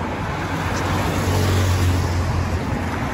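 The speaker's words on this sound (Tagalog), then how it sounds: "Mabibilis yung sasakyan dito sa highway." Fast cars rush by on a highway in one continuous loud roar of traffic, with no distinct single passes standing out.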